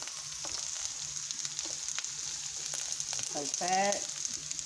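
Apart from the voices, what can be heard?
carrots and garlic frying in a pan for fried cabbage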